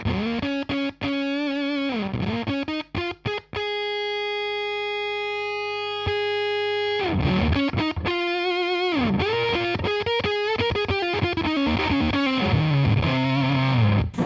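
Electric guitar on the neck pickup through a Fuzz Face style fuzz pedal with its mode switch engaged, giving a heavily compressed, saturated tone; choppy strummed bursts give way to a long sustained chord, then more busy fuzzed phrases, loud and close with no talking.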